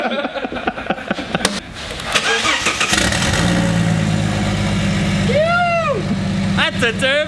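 A turbocharged Ford AU 4.0-litre Intech six in a drift car cranks and fires, then settles into a rough idle with a loud, steady low rumble, with people talking and whooping over it.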